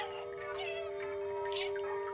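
A cat in the video game Stray meows in a drawn-out, rising and falling call, then a second shorter meow, over a steady tonal hum of background game music.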